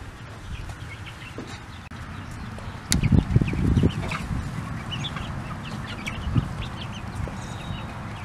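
Freedom Ranger chickens cluck and murmur nearby on pasture, with a louder burst of clucking partway through over a low outdoor background.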